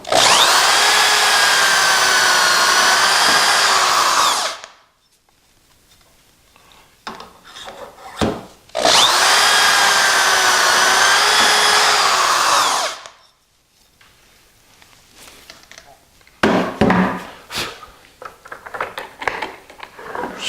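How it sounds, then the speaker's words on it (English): Two long bursts of a power drill whining at steady speed while drilling dowel holes in wood, each lasting a few seconds, separated by quieter handling noises and clatter. "So we're drilling 1 and 2."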